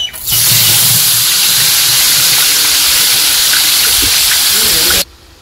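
Loud, steady hiss of onions frying in hot oil in a large pot for turmeric biryani, a dense sizzle holding evenly for about five seconds before dropping away.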